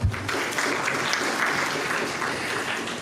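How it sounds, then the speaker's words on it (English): An audience at a financial stability forum breaks into a round of hand clapping, moderately loud and steady, beginning with a sharp onset and holding evenly for the whole span. "I think for that we deserve a hand clap."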